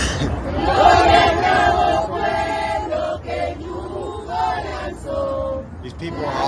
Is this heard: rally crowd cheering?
yes